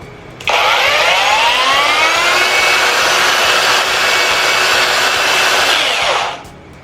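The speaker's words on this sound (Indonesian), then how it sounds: "terus kita tekan ini tombol hitam, mesin akan tetap nyala tanpa kita terus menekan tombol switch off nya" A Xenon cordless battery grinder, held on with its lock button, starts abruptly and runs at a loud, steady high whine for several seconds, then spins down at the end, with no speech.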